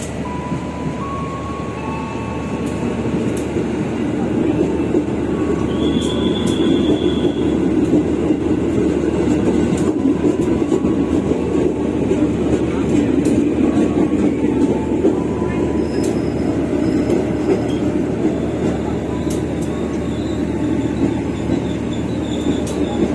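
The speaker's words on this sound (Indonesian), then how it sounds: "ini dia lokomotif dinas kereta api" A railway service locomotive idles and runs nearby at Rangkasbitung station, Indonesia, with a deep steady engine drone, occasional metallic clanks and brief squeals over the continuous rumble.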